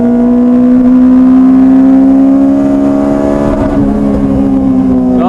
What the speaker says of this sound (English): On the limiter in fourth then